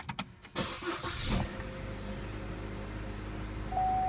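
A Chevrolet Cruze cranks briefly and catches, then runs at a quiet, steady idle close by, with a faint whine near the end.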